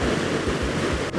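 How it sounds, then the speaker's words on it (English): Strong wind and surf pound the rugged Catlins coastline of New Zealand, a loud, steady roar of breaking waves with low gusts buffeting the microphone and no voices. "It's too windy and it's a little bit cold."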